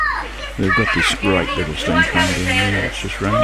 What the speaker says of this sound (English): as you can hear the kids yelling in the background